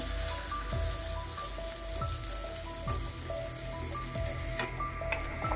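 Onions sizzling and frying in a pan with cauliflower, a steady broadband hiss with occasional stirring knocks, close and continuous, with no talk.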